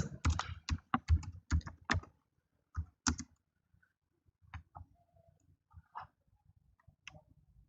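Close computer keyboard typing while entering HTML code, a quick burst of crisp key clicks at first, then sparser, softer irregular taps trailing off with pauses.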